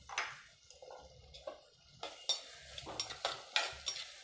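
Onions sautéing with a little salt in a hot clay pot, an uneven crackling sizzle broken by several stirring scrapes and clinks, fairly quiet and close, no voices.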